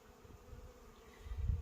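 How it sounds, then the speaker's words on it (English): Honey bees buzz around a packed hive close by, a low droning hum with occasional louder passes near the end, no voices. "the bees are already out flying, not a lot, but these are packed out"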